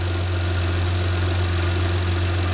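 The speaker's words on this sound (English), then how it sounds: "It's actually idling smoother than it was before." A 2010 Honda Odyssey engine idles steadily with a low, even hum that holds constant throughout, close up and with no talking.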